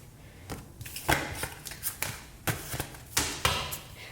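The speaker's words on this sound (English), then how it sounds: "One more shuffle." Tarot deck being shuffled by hand, a run of soft papery riffles and taps with small thumps at irregular intervals, close and fairly quiet, with no talking.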